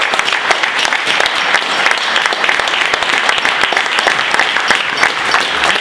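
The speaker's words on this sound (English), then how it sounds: "Big round of applause for everybody." A meetup crowd gives a loud, sustained round of applause, many hands clapping densely and evenly close by, with no talking over it.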